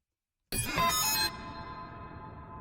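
A single bright synth stab, part of a psytrance hook, strikes once and rings out in a long, spacious reverb modelled on the Hamilton Mausoleum, its tail fading slowly with nothing else around it.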